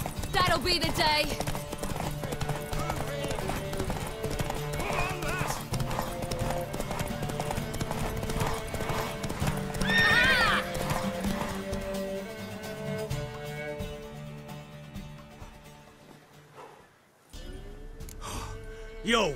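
Hoofbeats clatter on under game music and spoken dialogue after a horse race in The Witcher 3, with a brief horse snort or neigh midway before the galloping fades and the scene quiets.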